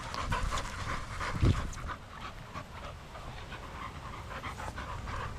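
Dogs panting and scuffling in play, a steady breathy rhythm close by with a brief louder bump partway through, no talking.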